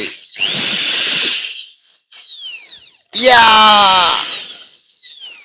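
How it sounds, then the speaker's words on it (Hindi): An electric drill machine whirs loudly in two bursts, revving up and winding down each time, with a voice briefly overlapping. "ड्रिल मशीन से आपको मैं डरा नहीं रहा हूँ"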